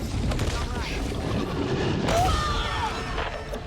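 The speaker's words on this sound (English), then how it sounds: "Explosion time!" Explosions and gunfire roar through a Back 4 Blood co-op shooter battle, forming a dense, loud, continuous barrage with a sharper blast near the middle and voices mixed in.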